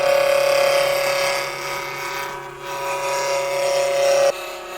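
Wood lathe running around 1,000 RPM while a tool rounds off a spinning wood blank for a small turned box, a loud steady motor whine with a rough cutting hiss that cuts off near the end.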